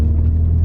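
Ford Fiesta ST180 engine rumbling steadily from inside the car while driving, a low, continuous drone with no voices, alone and close.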